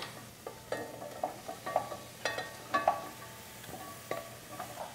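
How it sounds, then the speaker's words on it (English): Chopped carrots tumble into a soup pot, making a series of irregular knocks and clatters over a light sizzle, each drop a short, fairly close hit. "So now we add all of our carrots in."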